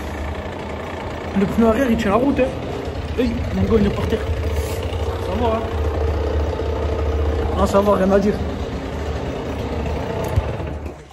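A motorcycle engine idles steadily throughout, with a constant low rumble under someone talking in French. The bike has a punctured rear tyre.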